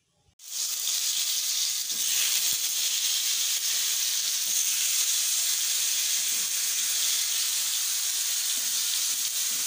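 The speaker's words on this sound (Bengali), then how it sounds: "পটলটা ভেজে নেব, একটু বেশি তেল দিয়ে ভাজবো" Pointed gourd (potol) frying in a generous amount of oil over a gas flame, a steady bright sizzle and hiss that starts abruptly and holds evenly close up.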